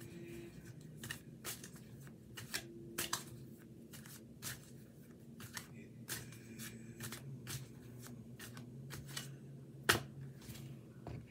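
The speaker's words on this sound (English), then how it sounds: "I'll just shuffle focusing on April and see what 4 cards come up for us." Tarot cards are shuffled by hand in a quiet room, producing a series of soft, quick riffling and slapping bursts at an irregular rhythm, close and faint with no talking.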